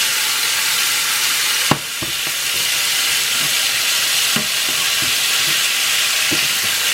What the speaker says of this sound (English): Make sure you cook your shrimp good both sides